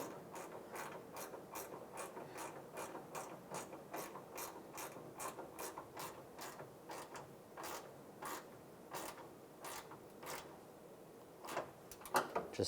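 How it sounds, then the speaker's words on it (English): A 10mm ratchet wrench clicks in a steady, rapid series of pawl ticks while snugging a bolt on a 2007-2013 Chevrolet Silverado bumper end, close and moderately loud, with a few sharper clanks at the finish. "take the 10mm ratchet wrench and we'll just snug this bolt down"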